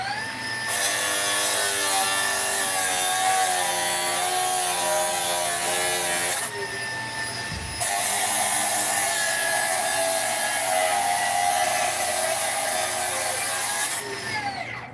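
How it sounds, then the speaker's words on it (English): Milwaukee cordless tool cutting 5/8 inch rebar on a job site, a loud, sustained high-pitched grinding whine with a brief pause midway before a second long cut, no talking. "another super common application we see on site is cutting into rebar"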